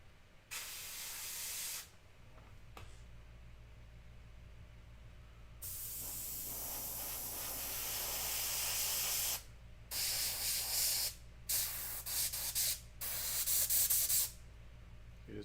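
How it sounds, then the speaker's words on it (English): An airbrush blows air onto a painted figure in short and long bursts of soft hiss, separated by brief pauses, with a faint background hum underneath. "You just take your airbrush with some paint on it and blow air on it."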